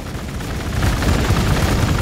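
Gunfire in the Warhammer 40k: Gladius strategy game, a dense rumbling barrage of low booming shots that swells and stays loud after a quieter start, with no voices.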